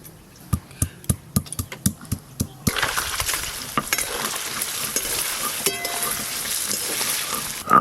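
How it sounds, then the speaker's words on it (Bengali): Paneer cubes fry lightly in a pan, opening with a series of sharp, regular clinks of a spatula against metal, then a loud, steady sizzle of hot oil takes over, with occasional scraping knocks beneath it and no one talking. "ছোলার ডাল করার আগে পনিরগুলো হালকা করে ভেজে নেব।"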